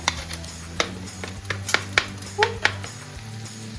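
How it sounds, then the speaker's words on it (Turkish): Dry rice is poured into a pan of caramelized onions for olive-oil stuffed peppers, making scattered light ticks and rattling patters over a faint background sizzle. "Şimdi e, soğanlarımızı da karamelize etmiştik. Pirincimizi döküyoruz içine."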